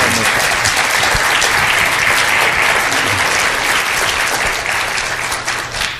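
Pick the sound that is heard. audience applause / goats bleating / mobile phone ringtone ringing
audience applause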